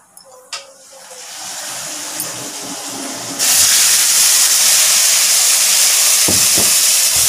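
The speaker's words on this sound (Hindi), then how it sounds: "मैं इसमें डालने जा रही हूँ अदरक लहसुन का पेस्ट" Ginger garlic paste drops into a hot tempering of cumin and bursts into a loud, steady sizzle that rises suddenly and continues alone.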